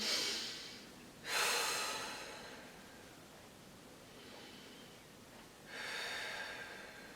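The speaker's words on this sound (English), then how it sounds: "arching that mid-back, deep breath in" Slow, deep breaths during a floor stretching exercise, two airy inhales or exhales a few seconds apart, close and quiet with soft hiss between them and no talking.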